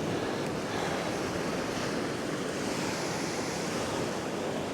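Steady, strong wind roaring across the mic at Sandbanks beach, a continuous broadband rush blended with surf, constant in level throughout with no voices.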